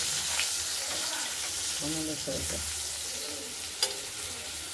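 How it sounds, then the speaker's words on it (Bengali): Potatoes fry in oil with dried chillies, sizzling continuously in a pan, with a brief voice partway through and a sharp clink of a utensil near the end. "আলুটা ভাজা হোক, তারপর টমাটোটা দেবো"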